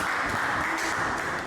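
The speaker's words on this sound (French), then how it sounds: "applaudissez-la." A studio audience at a French dating show claps, giving a short, dense burst of applause heard alone at a fairly quiet level.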